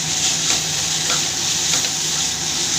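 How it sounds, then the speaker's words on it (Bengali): Spice paste of ground coriander and chilli powder fries steadily in oil for a tilapia dopeyaja, a continuous close sizzle with faint stirring scrapes and no talking. "ভালো করে মশলাটা ভেজে নেব"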